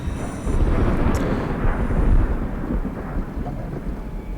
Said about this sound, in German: Wieso klingt es ja so, als würde es gewittern?